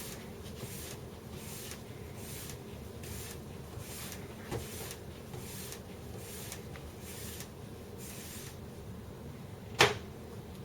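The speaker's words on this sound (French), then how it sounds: "je prends ma brosse et je brosse mon ski dans le sens de la glisse." A brush run along a freshly waxed ski in the direction of glide, repeated even swishing strokes at a steady rhythm, faint and close, ending with one sharp knock.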